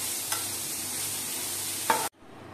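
Cashews and pointed gourd seeds are stirred in a pan, producing a close, steady sizzle with two brief scraping accents before the sound cuts off abruptly near the end.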